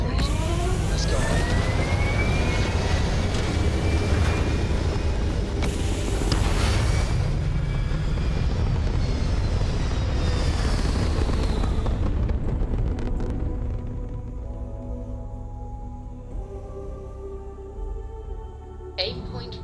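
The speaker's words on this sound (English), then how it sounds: "Liftoff complete." A spaceship lifting off in the video game Starfield: a loud, continuous roaring engine rumble with rising whines that fades to a quieter hum and tonal ambience near the end.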